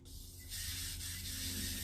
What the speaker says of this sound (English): I'm going to go ahead and give it a little spray with the Trio Chic hairspray.